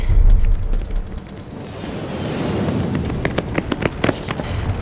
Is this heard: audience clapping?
no